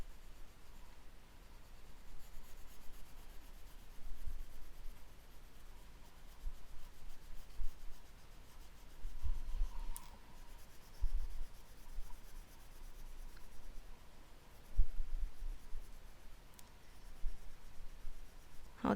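A pencil colouring and blending on paper while drawing a cartoon Chopper: quiet, steady rubbing and scratching strokes that continue throughout, close and soft, with no talking.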